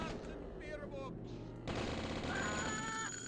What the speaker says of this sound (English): That's just 3 cultists with Tommy guns.